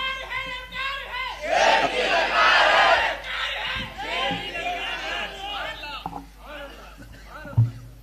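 Religious slogans chanted by a crowd at a Hyderabad gathering, a loud collective shout swelling mid-clip, then fading into scattered voices and a lone speaker.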